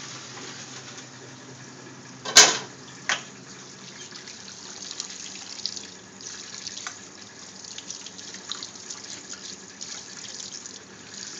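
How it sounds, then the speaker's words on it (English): Tap water runs steadily as noodles are rinsed in a sink, a constant hissing stream with a sharp clunk early on and faint splashing and drips throughout. "Right now I'm rinsing off the noodles."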